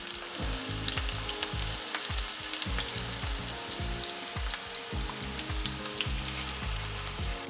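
Chopped shallots sizzle in garlic-infused oil for an egg curry, a loud, steady crackling fry with dense spitting and no voices.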